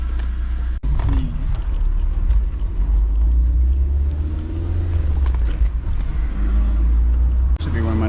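A BMW E36 on a test drive, its engine holding a steady low rumble from inside the cabin for the whole stretch, with a brief click or thump early on and a person talking over it.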